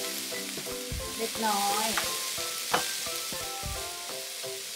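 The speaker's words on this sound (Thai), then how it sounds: "ทีนี้ก็ผัดให้เข้ากัน" Vegetarian broccoli and fried tofu skin are stir-fried in a pan, with a steady sizzle and repeated clacking scrapes of a utensil, close up, and someone speaking briefly.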